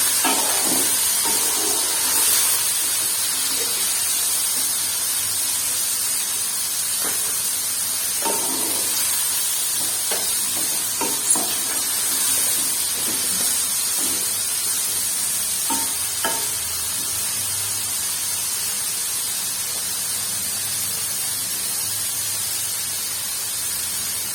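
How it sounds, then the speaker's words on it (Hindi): Cauliflower and potato pieces frying in a pan for chicken curry, a steady loud hiss and sizzle throughout with occasional stirring scrapes and clicks. "इसको हम फ्राई करेंगे 5 से 10 मिनट तक, अच्छी तरह फ्राई करेंगे"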